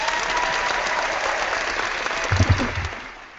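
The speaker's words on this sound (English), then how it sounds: "And now this applause here is exclusively for Eric." A crowd gives a short round of steady, dense applause with a few louder thumps near the end.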